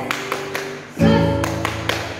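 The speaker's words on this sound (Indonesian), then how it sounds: "Tepuk tangan Yesus" Children in a Sunday school service at an HKBP church clap their hands in a short rhythmic chant, a few sharp claps, then a sustained sung or voiced tone, then another burst of claps.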